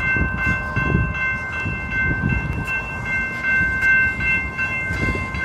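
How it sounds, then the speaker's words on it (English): A Metrolink commuter train passes close by, its horn holding steady tones over the rumble and rhythmic clatter of railcars rolling along the track. "That is the metro link"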